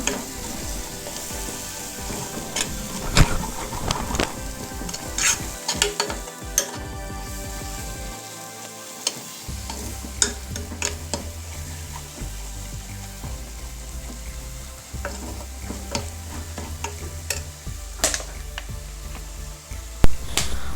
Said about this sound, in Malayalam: പൊടികളുടെ എല്ലാം ആ ഒരു പച്ചക്കുത്ത് മാറുന്നത് വരെ നമുക്കിത് നല്ല രീതിയിൽ തന്നെ ഒന്ന് വഴറ്റിയെടുക്കണം